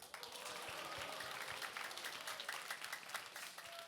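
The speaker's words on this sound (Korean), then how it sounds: "앞에 MC 대표보다 박수 소리 좀 작네요." Audience applause fills a seminar hall at a student talk event, steady clapping from a modest crowd with no gaps, moderately loud throughout.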